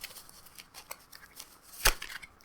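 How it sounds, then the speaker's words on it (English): A Modern Witch tarot deck is shuffled by hand, giving soft papery riffles and light card slaps, faint and close, with one sharper snap near the end. "I will shuffle it a little bit. This is my Modern Witch tarot deck."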